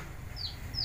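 Chickens clucking in a domestic setting, two short high calls over a steady low background rumble, fairly faint and with no talk.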